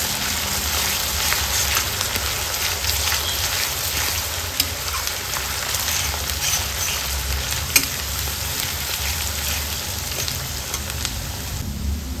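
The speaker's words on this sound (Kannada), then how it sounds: "2 ಈರುಳ್ಳಿನ ತುರಿದು ಇಟ್ಕೊಂಡಿದ್ದೀನಿ. ಅದನ್ನು ಸೇರಿಸ್ಕೊಂಡು ಚೆನ್ನಾಗಿ ಫ್ರೈ ಮಾಡ್ಕೊಳ್ಳೋಣ" Grated onion frying in oil with mustard seeds and cumin for a bitter gourd gravy, giving a steady broadband sizzle that holds at a constant level throughout, close up, with no talking.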